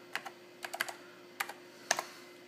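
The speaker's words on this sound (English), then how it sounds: "I'm going to try and type reboot here" Keystrokes on a NeXT computer keyboard, a few quick taps, a pause, then short bursts of clicks, close and fairly quiet over a steady low hum.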